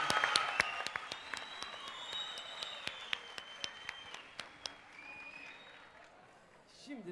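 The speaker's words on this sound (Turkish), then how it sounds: "Ozan Doğulu ve orkestrasına da bir alkış alıyoruz." At a Turkish televised Popstar singing competition, a studio audience applauds Ozan Doğulu and his orchestra, dense clapping with regular sharp accents and music tones, fading out toward the end.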